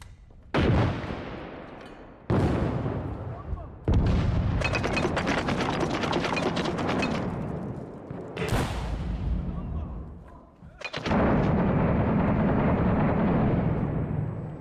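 Video game gunfire and explosions from a modern military shooter, with loud repeated booming blasts and bursts of shots. One sharp blast follows a thrown grenade, and the gunfire continues around it.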